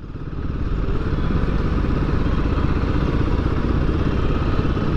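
A Royal Enfield Himalayan 450 motorcycle engine runs steadily at mid revs in eco mode while riding, a continuous rumbling drone with some mechanical clatter, close and loud throughout.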